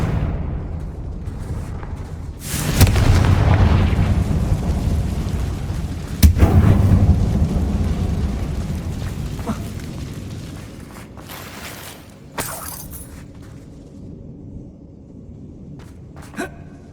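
Confringo explosive spell fired inside an abandoned mine in the Hogwarts Legacy video game: a loud blast near three seconds, another sharp crack around six seconds, each followed by long rumbling decay, then smaller impacts and settling debris.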